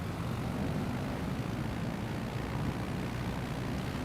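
Propeller engine of a Savage Cub bush plane in Microsoft Flight Simulator 2020, flying over Costa Rica: a steady, broadband droning hum held at even loudness throughout, with no talk.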